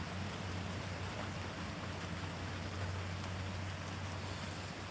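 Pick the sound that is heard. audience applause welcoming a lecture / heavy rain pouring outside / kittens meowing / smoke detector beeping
heavy rain pouring outside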